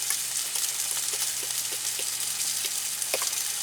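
Striped bass frying in a hot pan while camping in a van by the Cape Cod Canal, a steady close hiss of sizzling oil with scattered small pops and crackles throughout.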